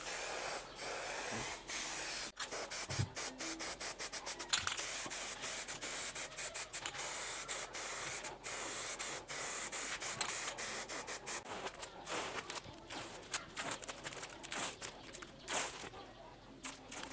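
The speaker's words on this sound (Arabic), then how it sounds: "هناخد سبراي باللون الاسود وهنبدا نرش على اللزق" Black spray paint sprayed onto glue, a long series of loud hissing bursts from the aerosol can with brief pauses between, close up and continuous, faster short sprays toward the end.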